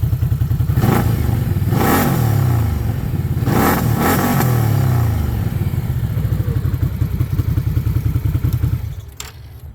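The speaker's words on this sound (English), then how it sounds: "Let's see what it sounds like with some throttle." A 2022 Can-Am Outlander XMR 1000 ATV sits nearby as its throttle is blipped several times. Each blip brings a loud, rising rev that falls back to a lumpy, thumping idle, and the engine cuts off at the end.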